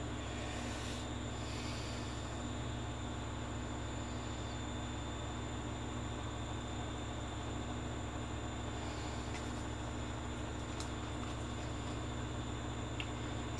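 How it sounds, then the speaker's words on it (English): A domestic washing machine runs loudly nearby, giving off a steady, droning roar like a jet taking off that holds unchanged from start to finish with no one speaking. "that's my washing machine. It sounds as if it's going to take off"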